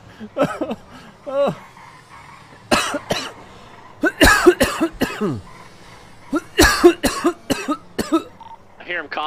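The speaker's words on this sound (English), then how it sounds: "I hear him coughing." A character coughs repeatedly in a GTA roleplay game, with several sharp bursts in uneven clusters spread across the stretch, fairly close and clear against a quiet background.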